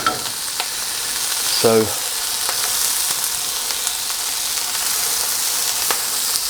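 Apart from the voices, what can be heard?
pumpkin cooking down in a pan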